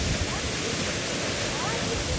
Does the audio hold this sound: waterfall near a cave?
yes